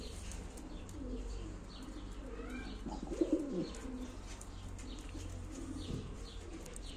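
Pigeons coo softly at a live auction of Ankara tumbler play pigeons, low throaty burbles over a constant hum, with a brief louder call midway and faint chirps scattered throughout.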